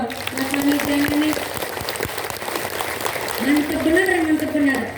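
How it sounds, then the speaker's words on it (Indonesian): Audience clapping in a mosque during a women's religious sermon, a steady wash of applause lasting several seconds with a voice talking over it. "Tepuk tangan dulu dong"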